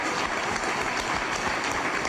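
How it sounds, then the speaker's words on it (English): A crowd at a Nashville mayoral runoff event gives a loud, sustained round of applause, dense clapping rolling evenly through the whole stretch with no talk over it. "let's all give a hearty round of applause to all the other candidates who have fought so hard"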